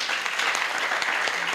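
Audience at a debate session between Abakaliki and Onicha LGA applauding, a brief, full burst of many hands clapping at a steady level, fairly close, with no clear voices over it.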